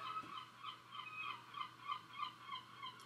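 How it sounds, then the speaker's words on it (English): Seagulls calling outdoors in Worthing near the seafront on Marine Drive, a run of repeated mid-distance cries and squawks with steady background ambience and no talking. "seagulls uh, making a cameo appearance"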